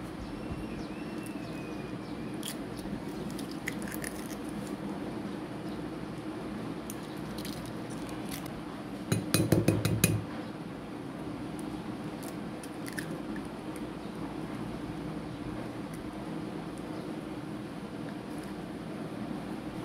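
Two eggs cracked into a bowl in a home kitchen, a short crisp burst of shell cracking and wet squish near the middle against a quiet steady room background.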